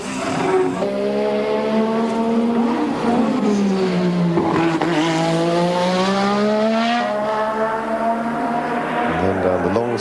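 Formula One cars at the 1986 Australian Grand Prix qualifying, engines rising in pitch as they accelerate down the long straight, a loud continuous high-revving whine with gear changes and a fresh rise near the end.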